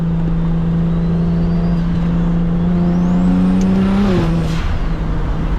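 Steady engine drone and exhaust hum from inside a moving BMW 335is with a resonator fitted, a low tone holding even, then briefly rising and dipping as the revs shift.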